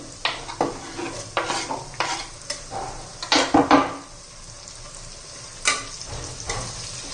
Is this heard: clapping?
no